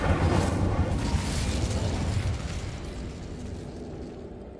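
Incendio fire spell from Hogwarts Legacy erupts in a loud, bursting whoosh of flame that swells at once, then slowly fades away over several seconds.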